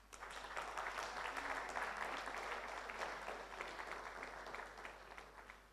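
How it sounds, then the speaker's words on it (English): Faint applause from an audience for a panel at an urban discussion event, a steady wash of many hands clapping heard from a distance and gradually easing off. "Let's give our panelists a big round of applause."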